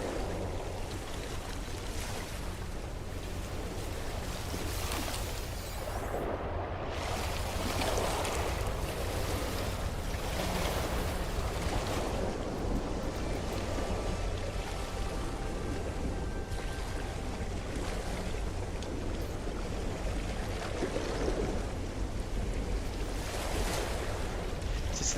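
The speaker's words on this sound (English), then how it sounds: "Holy crap, that water, those waves are loud." Loud, continuous ocean surf from No Man's Sky, with waves crashing and rolling steadily and wind noise blended in, no pauses.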